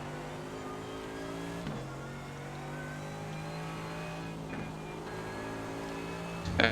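A GT3 race car in the iRacing sim drones steadily at a sustained engine pitch that shifts slightly, with a brief gear change before a slowly rising tone and a sharp noise at the end.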